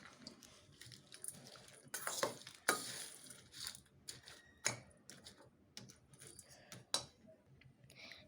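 Bhel snack with chopped tomato mixed by hand in a bowl: faint, irregular crisp rustling and crunchy tapping of puffed rice, close but quiet, with no talk.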